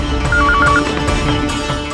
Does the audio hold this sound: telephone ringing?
yes